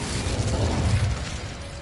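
Incendio fire spell cast in Hogwarts Legacy, a dense whooshing, crackling burst of flame with a low rumbling boom, loud and sustained for under two seconds with no talk.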